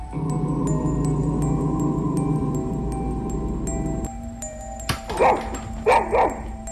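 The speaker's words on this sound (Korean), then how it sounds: "카메라가 돌아가는 동안 그의 강아지가 낮은 소리로 으르렁거리며 뭔가 이상함을 감지합니다" A dog indoors, uneasy as if sensing something wrong, growls low before breaking into a few sharp, loud, close barks in two quick bursts near the end.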